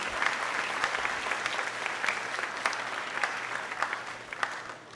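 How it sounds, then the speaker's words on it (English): Audience applause at a sixth grade moving-up graduation ceremony for teachers and staff, a sustained crowd clapping with sharp individual claps standing out, steady and moderately distant across the whole span. "We would also like to acknowledge our teachers and staff by giving them a round of applause."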